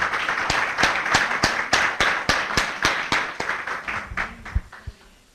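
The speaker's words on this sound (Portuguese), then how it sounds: "Vamos dar uma salva de palmas bem bonita para o nosso Deus." Church congregation applauding during a worship service, a run of loud, rhythmic claps in a reverberant hall that gradually thins out and fades toward the end.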